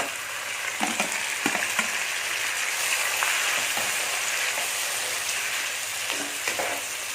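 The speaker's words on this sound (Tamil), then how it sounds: "கருவேப்பிலை சேர்த்து அதில் இந்த சீவி வச்சிருந்த நார்த்தங்காயை போட்டுடலாம்" Sliced citron sizzles steadily in a pan of hot oil with curry leaves, with a constant close frying hiss broken by occasional soft stirring knocks.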